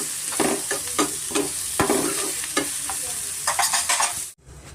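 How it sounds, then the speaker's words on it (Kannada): Curry leaves pepper chicken frying on a medium flame, with brisk scraping stirs over a steady sizzle, close and fairly loud, cutting out abruptly near the end; nobody speaks. "ಮೀಡಿಯಂ ಫ್ಲೇಮಲ್ಲಿ ಸ್ವಲ್ಪ ಚೆನ್ನಾಗಿ ನಾವು ಫ್ರೈ ಮಾಡ್ಕೊಬೇಕಾಗುತ್ತೆ"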